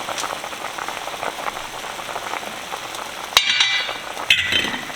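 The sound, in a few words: pot of chicken broth coming to a full boil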